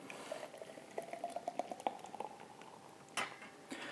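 Homebrewed Bohemian pilsner beer is poured into a glass, a faint close trickle with small bubbling splashes and gurgles, ending in a sharper clink near the close.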